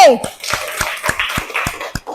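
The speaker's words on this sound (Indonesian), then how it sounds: "Kasih tepuk tangan untuk kelompok B." A classroom student group claps in an even rhythm, about eight sharp, close claps spaced roughly a quarter second apart.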